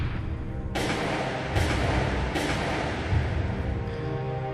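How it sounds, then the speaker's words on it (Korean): Three pistol shots ring out one by one, each a sharp crack followed by a long echoing tail, spaced under a second apart over a constant low background rumble. "이게 우리 권총 소리죠, 권총 소리."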